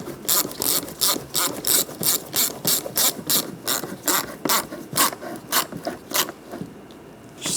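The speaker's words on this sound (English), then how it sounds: "Tighten up the worm clamp." A hand ratchet clicks in quick, regular bursts while tightening a worm-gear hose clamp on the air intake snorkel of a 1999-2006 Chevrolet Silverado 1500, close and clear with no voices.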